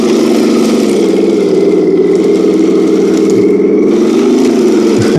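An RC King Tiger tank, heavy and powerful, plows through undergrowth with a loud, steady motor drone and grinding drive that holds throughout, with no voices.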